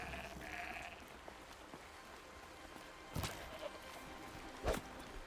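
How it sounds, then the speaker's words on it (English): Goats bleating in the video game Horizon Zero Dawn, two short bleats spaced apart over a faint, steady game ambience with light footsteps. "Are those goats? They're goats!"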